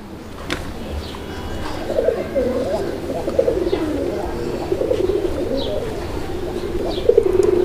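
A male Raj Golla pigeon coos repeatedly on catching sight of a female, soft throaty calls recurring in a rhythmic series nearby, with a person talking intermittently beneath.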